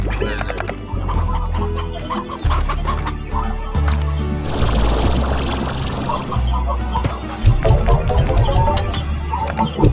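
Chickens in the Slime Rancher video game cluck repeatedly in short, close bursts, mixed into a busy bed of game sounds and music.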